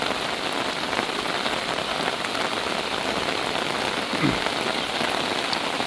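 Heavy monsoon rain pours over a village in the Ashtagram haor region of Kishoreganj, making a constant close patter and hiss, with one brief low thump near the end.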